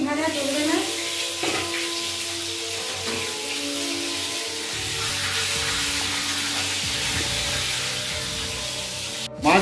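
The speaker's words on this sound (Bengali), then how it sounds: "মাছগুলো কিন্তু খুব বেশি ভাজা চলবে না, সেগুলো হালকার উপরে ভাজতে হবে।" Fish, prepared for a dahi katla curry, fries in a pan with a steady broadband sizzle throughout, with some faint background voices and a clatter near the end.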